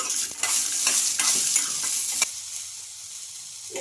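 Chopped ginger and garlic fry loudly in a hot pan, a bright continuous sizzle with quick stirring scrapes that eases off slightly toward the end, no talk.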